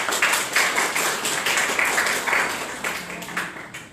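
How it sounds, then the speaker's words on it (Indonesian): An audience at an inauguration ceremony claps, producing a scattered patter of hands that begins fairly full and slowly thins over a few seconds, moderately loud and with no speech. "Boleh tepuk tangannya."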